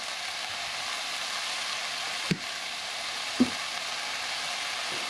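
Shoyu goes onto vegetables sizzling in a pan for Hawaiian fried noodles with Spam, a steady loud frying hiss with a couple of brief clacks of a utensil against the pan.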